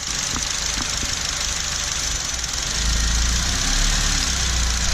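A Honda Civic Si engine idles with its mass airflow sensor unplugged, giving a steady, close mechanical hum with a low rumble that deepens and grows slightly louder midway.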